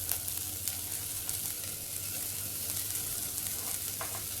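Garlic sautéing in a pan for adobong sitaw, a quiet, steady broadband sizzle with faint crackles, close and continuous with no talk.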